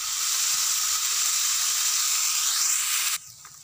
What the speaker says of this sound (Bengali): এইভাবে আমি আস্তে আস্তে কষে নেব।